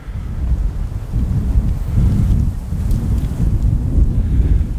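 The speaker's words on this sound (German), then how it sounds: "Ja, sehr windig heute." Strong wind buffets the microphone in continuous low rumbling gusts, with no voices or other distinct sounds.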